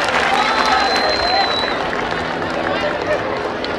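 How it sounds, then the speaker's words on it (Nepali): An audience claps and cheers at a radio station's seventh annual function ceremony in Nepal. The applause is dense and steady, loud and close, with crowd noise and a thin whistling tone above it. "हजुर निर शाहज्यू जोरदार ताली।"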